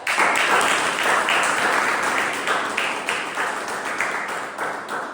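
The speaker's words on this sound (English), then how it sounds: "Let's give a big round of applause for that." An audience claps and applauds at a Toastmasters club meeting, a dense, sustained round of clapping that slowly thins toward the end.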